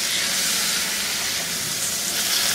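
Okra pieces fry in oil with turmeric and salt for an aloo bhindi bhaji, producing a dense, continuous, loud sizzle with no breaks or talk.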